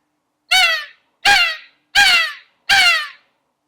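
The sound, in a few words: crow call device imitating a crow, used as turkey locator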